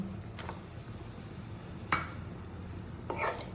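Chopped capsicum stirred into onion and garlic frying in a pan for paneer tikka masala: a low, steady sizzle broken by a few scraping clinks of the spoon against the pan.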